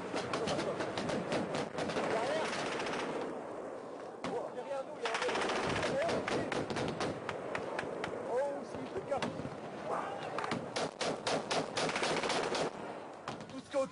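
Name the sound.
gunfire in the mountains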